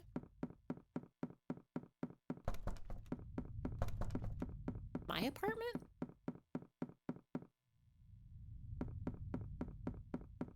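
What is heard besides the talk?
knocking on a door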